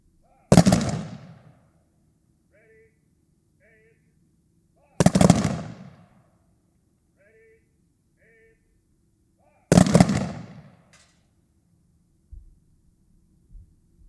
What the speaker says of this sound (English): We will now have a traditional rifle salute.